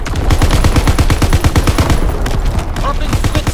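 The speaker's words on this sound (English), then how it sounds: "Firing for full effect. Target zone locked." Rapid bursts of gunfire in Call of Duty: WWII, a fast repeated volley of loud, close shots for about two seconds, then a rumbling tail.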